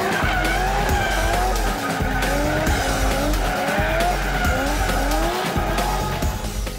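Race cars sliding around a track, engines roaring steadily while tires squeal and skid in repeated sweeping bursts, loud and close with no talk.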